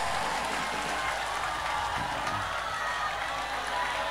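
An audience at a religious lecture by KH Anwar Zahid claps and cheers in a steady, dense roar of applause that holds at an even level from start to finish.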